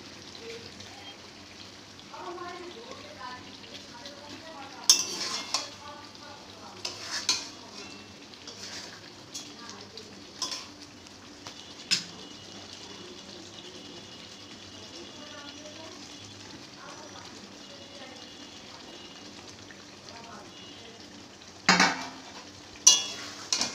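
Hilsa fish pieces rubbed with salt and turmeric fry in spiced oil, giving a low, steady sizzle with a few sharp utensil clinks scattered through it.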